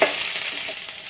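Two whole dried red chillies sizzle and fry in hot oil while a raw mango thokku is being made, giving a steady, close, bright hiss with no talk.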